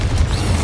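A Confringo blasting curse explodes in Hogwarts Legacy, a short, loud, booming burst with heavy low rumble that fills the whole brief moment.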